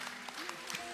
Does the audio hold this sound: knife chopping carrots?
no